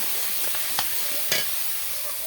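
Meat masala with chili paste, salt and turmeric sizzles in a pan under a constant hiss, while a few short spoon scrapes mark the stirring. No voices are heard.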